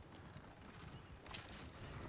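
Horses in the video game Red Dead Redemption 2, faint clip-clopping hooves under a steady wash of game ambience, with no one talking.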